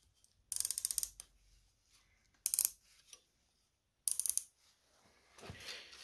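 A hand ratchet tightens skid plate mounting bolts on an Aventon Level e-bike in three short, crisp clicking bursts separated by quiet pauses, close up and otherwise silent.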